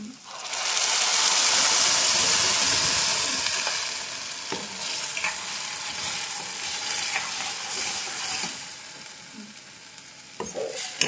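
Ground masala paste frying with onions in a pan sizzles loudly and steadily, with stirring and scraping throughout that ease off slightly toward the end.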